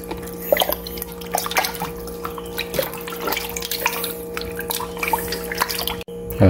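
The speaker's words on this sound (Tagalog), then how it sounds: "at hugasan natin yung karne guys" Raw meat for kare-kare being rinsed under running water in a kitchen sink, a steady stream with dripping and splashing that carries on throughout at moderate loudness, with no talking.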